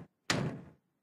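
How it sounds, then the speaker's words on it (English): A single dull knock or thump on a door in a children's cartoon, short and fairly close, with a brief faint sound just before it and no talking. "It's somebody at the door."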